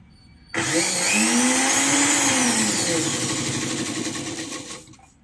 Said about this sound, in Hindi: ये मोड़ के सिलाई करते चलेंगे।